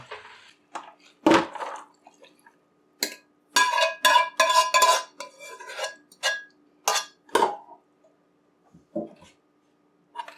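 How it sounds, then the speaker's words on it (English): Chow mein being dumped into a basin and tossed, with a run of clattering metal knocks and scrapes, bunched into a busy burst in the middle and sparser hits around it, close and fairly loud. "we're gonna dump this in the basin and mix it in there"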